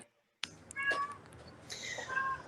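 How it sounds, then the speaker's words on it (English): A cat lets out a couple of nearby meows after a brief silence, two tonal cries with a rustle of background noise between them and nobody talking. "That's not your cat, Dave?"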